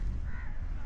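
Crows caw among a mass of birds in a crowded conservation area, harsh calls rising over a dense, noisy wash of ambient sound.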